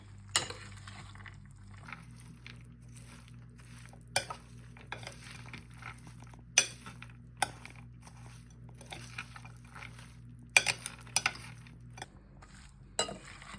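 A spoon tosses a mung dal sprout salad with pomegranate and coriander in a bowl, giving soft scraping with scattered light clinks against the dish, steady and close, with no talking.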